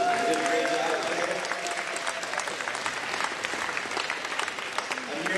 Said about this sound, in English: Let's have a big round of applause for the volunteers and the judges